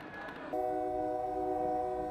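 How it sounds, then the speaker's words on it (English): A model train layout set up for a grand opening event runs nearby, its horn sounding as a steady multi-tone chord that starts abruptly and holds loud and sustained over a softer rumbling background. "for today's grand opening, we actually had these model trains going,"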